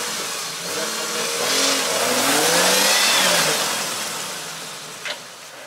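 Jeep Rubicon engine revving on an off-road slope while reversing, a mid-pitched engine note rising and swelling then easing back, fairly close, with a brief sharp click near the end.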